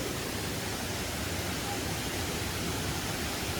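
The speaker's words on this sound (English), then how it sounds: "there's a little waterfall inside the cave" A small waterfall running inside a cave, a continuous broadband rush of falling water, steady and close with no pauses.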